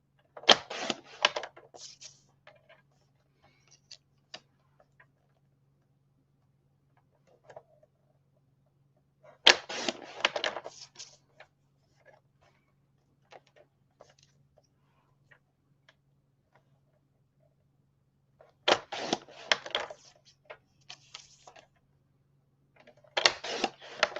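A paper mat for a 6x8 Doodlebug Berry Sweet photo album is trimmed in a few separate bursts of rapid clicking and rasping cuts, close by, with long quiet gaps between them.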